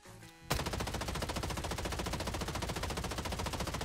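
Rapid automatic MCX rifle fire in the video game Bloodstrike, a loud, unbroken burst of close shots after a brief quiet start, no voices.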